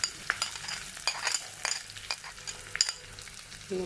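Shallots and green chillies frying in hot oil for a jackfruit mash, a steady close sizzle broken by bursts of stirring and the clink of a spoon against the pan.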